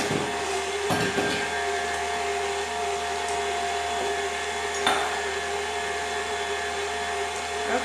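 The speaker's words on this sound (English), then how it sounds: "So let's let that mix for a minute." An electric mixer runs continuously, blending thick fudge marble walnut pound cake batter with a close, steady whirring drone, punctuated by a few brief clatters of the beaters against the bowl.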